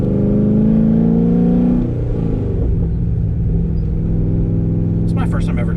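A cammed C6 Corvette V8 rumbles loudly from inside the car, with a deep, lumpy drone that settles as the revs drop. A voice talks briefly near the end.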